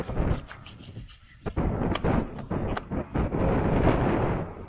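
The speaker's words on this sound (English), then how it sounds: "the wind is insane" Strong wind roars and buffets the microphone while riding in an open three-wheeled Polaris Slingshot. The loud, gusty rumble runs throughout and briefly drops away just after the start.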